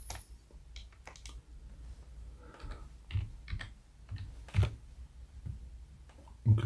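Keys tapped on a computer keyboard while a formula is entered in an Excel spreadsheet, a string of quiet, irregular clicks with a few louder taps, close by and with no talking.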